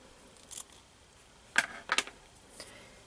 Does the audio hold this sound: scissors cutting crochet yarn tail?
yes